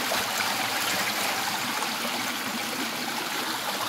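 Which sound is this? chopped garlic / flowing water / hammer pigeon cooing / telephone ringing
flowing water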